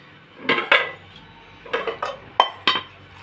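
Metal cookware, including a new frying pan, clanks and clinks in several separate bursts as pots and pans are moved about nearby in a home kitchen, with short pauses between handlings.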